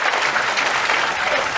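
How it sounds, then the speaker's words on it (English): An audience claps in a dense, continuous burst of applause, loud and close for the whole short stretch. "Yeah, but why are you clapping?"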